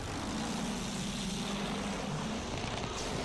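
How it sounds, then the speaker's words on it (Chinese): A propeller airplane engine in the World War I shooter Battlefield 1 drones steadily throughout, a low continuous hum that stays fairly distant and even, with no talk over it. "有飞机"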